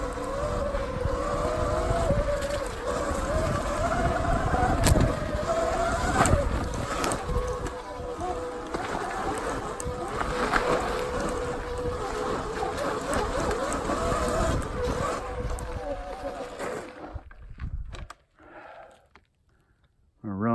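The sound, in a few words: front brake whining on Sur Ron electric bike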